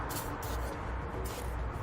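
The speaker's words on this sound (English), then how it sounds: "I'm going to go ahead and spray down my rubber isolators" A spray can hisses in several short bursts aimed at rubber exhaust isolators and an exhaust hanger under a 2018 Subaru Forester, close and steady.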